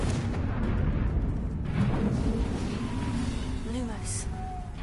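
A Confringo fire spell blasts in the video game Hogwarts Legacy, a muffled booming burst over a dense bed of game noise and music, with a short rising whoosh near the end.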